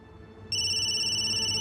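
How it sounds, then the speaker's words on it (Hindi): A phone starts ringing halfway through, a steady, loud, high electronic ring that continues unbroken after a quieter stretch of low background hum. "किसका फोन है?"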